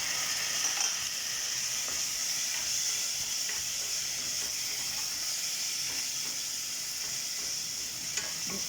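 Tomato fries in a hot pan with a loud, steady sizzle and hiss throughout, faint stirring scrapes beneath and no talking.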